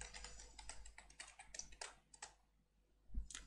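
A computer keyboard clatters with a quick burst of dense keystrokes while a password is typed during a WSL Ubuntu 20.04 setup, close and fairly quiet, thinning out before a final few taps.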